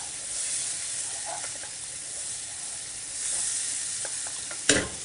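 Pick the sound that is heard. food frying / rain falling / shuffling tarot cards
food frying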